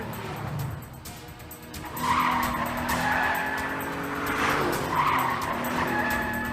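Car speeding and skidding in a Hindi-dubbed South Indian movie chase: continuous engine noise with a loud tire screech swelling in partway through, repeated squeals layered over a rushing roar.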